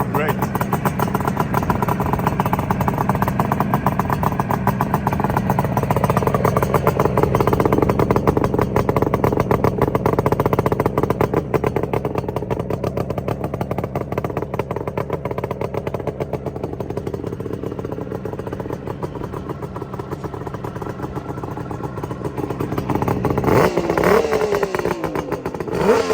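A Suzuki GT550 RamAir motorcycle engine running nearby, a steady loud two-stroke burble throughout with a brief rev and clatter near the end, a voice talking over it.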